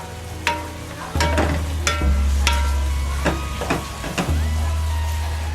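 Sugar caramelizing in a pot for chicken soup: a steady low sizzle with repeated scraping and stirring clicks of a utensil against the pot, close and fairly loud, with no talking.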